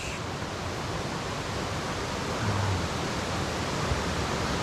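Steady, dense rushing of a stream flowing under a bridge on the Appalachian Trail, a continuous broadband roar with no pauses, heard up close.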